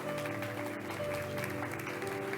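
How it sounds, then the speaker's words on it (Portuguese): Church congregation clapping together in a steady wash, with sustained music playing underneath throughout. "Pode aplaudir o Senhor."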